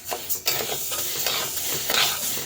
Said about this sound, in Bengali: তা ডালটা ভেজে নিই আগে